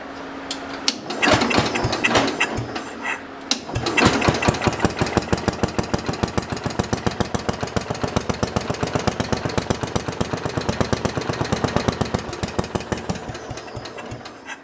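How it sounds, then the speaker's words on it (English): An old engine that has sat unused for a long time sputters to life, then runs loud and close at full throttle with a fast, steady rhythmic chugging beat. "I don't like running an engine that hasn't been run in a long time at full throttle"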